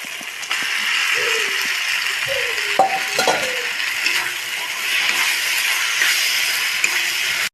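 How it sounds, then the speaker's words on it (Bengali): Chopped banana blossom frying and being stirred in a pan after spiced masala, a steady close sizzle with scraping spoon strokes and occasional clinks throughout. "এবার ঢেলে দিব মোচা।"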